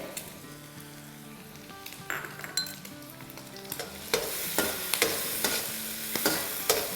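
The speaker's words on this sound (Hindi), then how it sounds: "सौटे करेंगे अदरक, लहसुन और हरी मिर्चों को। फ्लेम हमारी हाई है" Ginger, garlic and green chillies sauté in a pan over a high flame, giving a steady sizzle with repeated scraping stirs that grow louder and more frequent toward the end.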